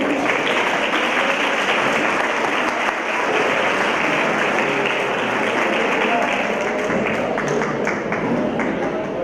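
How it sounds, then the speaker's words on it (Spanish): An audience welcomes a speaker onto the stage with sustained, loud applause from many hands. A few voices are faintly audible underneath the clapping. "Vamos a recibirlo con un aplauso."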